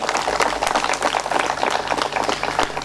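An audience claps loudly and densely at a Guru Jayanti celebration and seed bank opening, greeting Rahibai Popere with a steady, crackling wall of applause and no voices on top.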